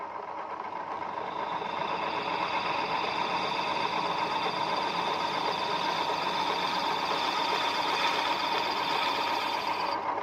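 A lathe trims the head of a tough piston over 80 mm across, a steady humming machine drone with a continuous buzzing cutting tone, even and unbroken throughout.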